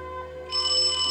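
A telephone rings in a village tavern, a brief bright electronic ring that rises partway through the short moment and carries on steadily.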